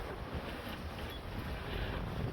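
Steady, broadband wind roar and rushing water from a sailboat under way off the wind between Ramsgate and Dover, loud and continuous with gusts buffeting the microphone, no voices.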